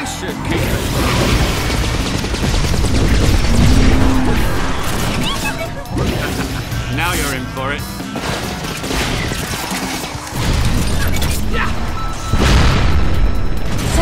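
Explosions blast targets in the Cars 2 video game during an Imperial Tour attack mission, with loud booming crashes and mechanical clatter running almost continuously alongside game music and effects.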